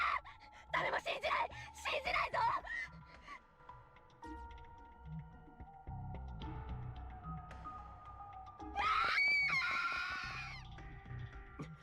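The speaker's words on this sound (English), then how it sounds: "She shouts and shouts again, then runs off." A girl character in the Corpse Party video game shouts and cries out in bursts, with a sharp loud yell near the end over game music and ambience.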